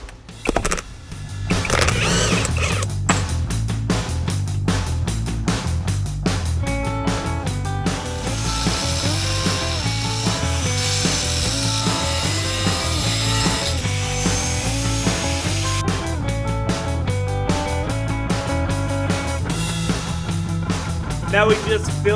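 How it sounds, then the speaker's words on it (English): A steel gear shift lever having a notch cut out with a power tool: a steady grinding, rasping cut that runs nearly the whole time, close and loud. "All I'm gonna do is cut a little notch out of the gear shift"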